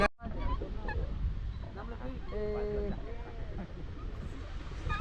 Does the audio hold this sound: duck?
yes